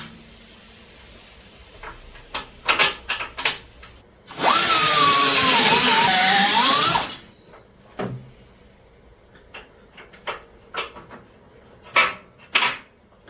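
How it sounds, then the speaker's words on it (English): A power drill whines loudly for about three seconds, enlarging a hole while fitting a receiver hitch on a mini F150 build, with a slight pitch dip under load, surrounded by scattered clicks and handling knocks. "So I will just drill that out and make it work."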